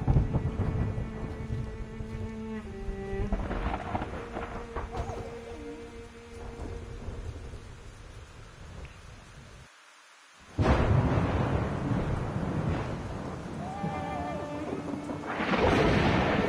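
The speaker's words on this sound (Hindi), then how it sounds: "बाहर बहुत बिजली कड़क रही है" Thunder rumbles during a rainy thunderstorm in the video game Endling: Extinction is Forever, with deep rolling crashes separated by a brief silence and steady rain noise between them.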